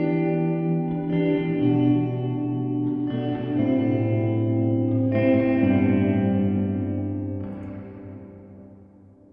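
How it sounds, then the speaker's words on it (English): Sustained musical tones ring out through a convolution reverb effect, each chord changing every couple of seconds and trailing off into a smooth, spacious decay. "here's the same thing through the convolution reverb."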